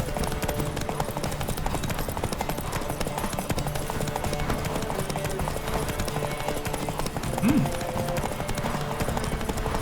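Hooves of Roach the horse clip-clopping steadily in The Witcher 3, a continuous rhythmic trot under game music and ambience, with a brief neigh near the end.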